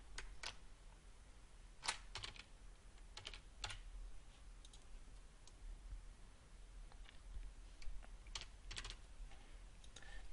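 A computer keyboard is typed on in short, irregular bursts of crisp key clicks, quiet and close, with pauses between entries.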